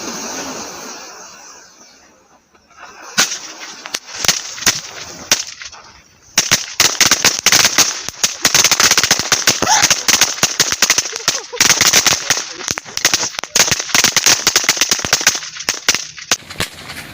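A long string of 5000 firecrackers, lit outdoors, crackles in a dense, loud rapid-fire burst of sharp bangs after a few scattered pops, running on continuously to the end.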